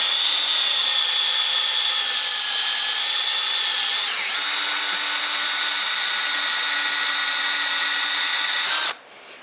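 A power drill whines steadily through wood at close range for several seconds, then cuts off abruptly.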